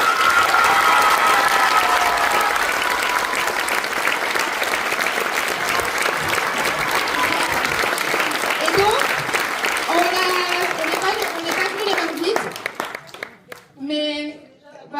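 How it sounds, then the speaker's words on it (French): Loud, sustained applause from a theatre audience after a stage show, with cheering and voices over it, fading into scattered talk near the end. "un tonnerre d'applaudissements pour nos héroïnes de la scène et la régie"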